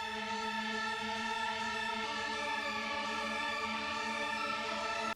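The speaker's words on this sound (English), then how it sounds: "but I turn it into an arp with this arp function down here." Serum 2 pad preset turned into an arpeggiated synth line spanning two octaves, with light chorus and reverb, a quiet, smooth, sustained tonal wash held evenly throughout with no voices.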